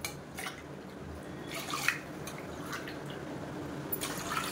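Rice-soaking water is poured from a tumbler into a cooking pot while making urad dal rice, giving soft, intermittent splashing and dripping bursts over a low steady background.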